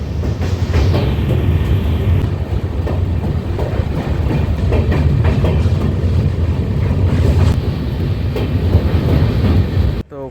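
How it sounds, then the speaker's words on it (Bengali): Kandari Express 22898 rumbling across the Kolaghat railway bridge over the Rupnarayan River, heard from on board as a loud, steady roar of wheels with faint clickety-clack and wind, cutting off abruptly near the end. "তো কোলাঘাট রেলওয়ে ব্রিজ আমরা অতিক্রম করে ফেললাম"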